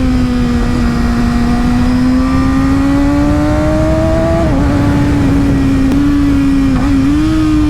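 A 2019 Kawasaki Ninja ZX-6R 600 sport bike engine screams loudly and close, holding a high, slowly rising rev tone with brief dips between shifts, unbroken and without talk.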